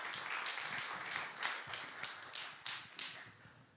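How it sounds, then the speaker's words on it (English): An audience claps for conference speakers: a sparse, faint run of about eight distinct hand claps at an uneven, slowing rhythm, heard from a distance without voices. "let's give a warm applause to the speakers and Femke"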